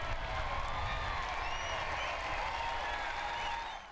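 A crowd at Driller's Stadium applauds a Pearl Harbor survivor stepping to the pitcher's mound, a faint, distant wash of clapping and crowd noise that holds steady and fades slightly at the end.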